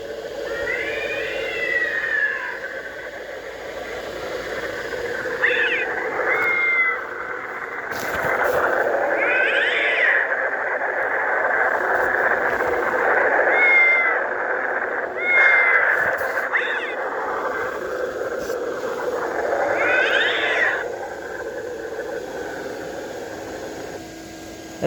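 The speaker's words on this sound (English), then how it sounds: "This one plays the cat and thunder noises." Battery sound box on a Gemmy 2006 nine-foot inflatable Halloween tree tunnel, playing a continuous looping track outdoors. Recurring yowling cat cries sit over a steady rushing, noisy rumble, fairly loud throughout, with no talking.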